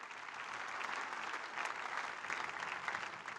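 A church congregation claps together during a French-language sermon, a dense, sustained burst of applause from many hands that stays loud and even throughout, with no voices standing out.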